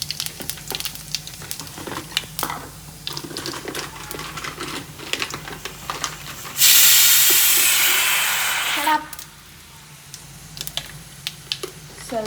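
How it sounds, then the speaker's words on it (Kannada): Cumin seeds crackle and spit in hot oil in a home kitchen pan, a dense run of sharp pops, with a loud steady hiss swelling in for a couple of seconds before the crackling resumes, up close and with no talking. "ಚಟಪಟ ಸ್ವಲ್ಪ ಜೀರಿಗೆ ಹಾಕಿ"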